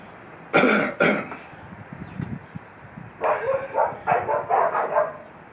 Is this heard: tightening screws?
no